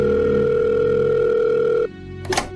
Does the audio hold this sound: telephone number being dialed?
yes